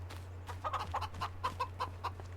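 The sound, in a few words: chickens clucking in video game Farming Simulator 25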